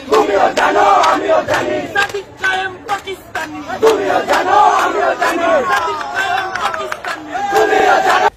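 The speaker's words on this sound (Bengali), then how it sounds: "এই যে দেখেন মেঘমাল্লার স্লোগান দেয়" A large crowd loudly chanting political slogans in steady, rhythmic unison, the shouted lines rising and falling close by without a break.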